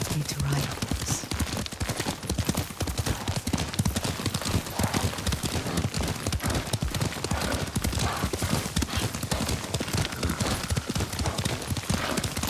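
Horse hooves clip-clop in a quick, steady rhythm throughout in Ghost of Tsushima, close and loud, with faint voices now and then.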